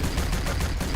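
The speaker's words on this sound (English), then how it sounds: "He sees bullets flying over his head." Rapid gunfire from the Quake 3 Bloodrun mod fills the moment, a dense, steady barrage of shots with no talk over it.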